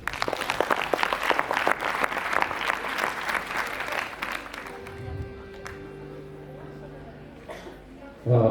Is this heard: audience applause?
yes